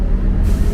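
A TransJakarta city bus at night gives a sharp, loud hiss as its air brake releases, heard up close and alone over the rumble of the idling engine.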